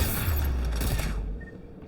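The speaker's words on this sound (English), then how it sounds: "The Geth anti-aircraft guns are up ahead" Geth anti-aircraft guns fire in Mass Effect 3, a loud rumbling barrage of deep booms with mechanical clatter that fades after about a second, with no talk.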